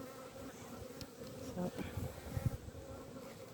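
Honeybees buzz at an open beehive with no queen excluder, a dense steady swarm drone close by, with a brief spoken word.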